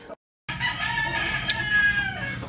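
A young stag rooster, a gamefowl, crows once, close and clear, a strained, rising call that holds for about two seconds after a brief silence.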